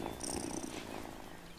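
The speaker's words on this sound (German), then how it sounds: "what a good purr." A cat purring in the video game Wylde Flowers, a soft steady rumble running through the whole short moment, with faint game tones above it and no talking.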